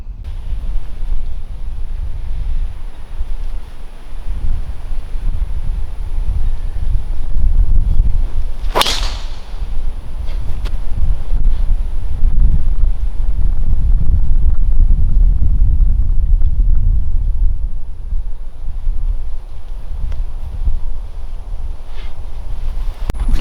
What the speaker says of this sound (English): into a pretty brisk headwind, as I'm sure you guys might be able to hear by the mic.